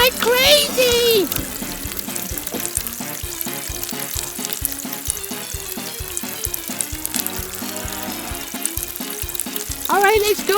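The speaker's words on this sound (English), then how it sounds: "It's bubbling like crazy." Water bubbles vigorously inside a toy with a busy, fizzing, sizzling churn that carries on throughout. Voices chatter over it.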